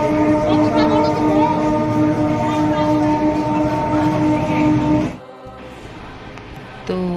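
A suburban train pulls out of Barrackpore station bound for Sealdah, a loud steady rumble with droning tonal hum. It cuts off sharply after about five seconds, leaving quieter platform ambience.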